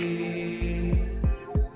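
An excerpt of a song plays as recorded music: a sustained droning, humming opening with deep low thuds striking about three times in the second half, no voices.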